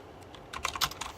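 Quick, close clicks of typing on a computer keyboard come in a short irregular burst of keystrokes, growing busier toward the end, with no talking.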